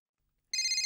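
A telephone starts ringing abruptly after a brief silence, a bright electronic trill that is loud and close.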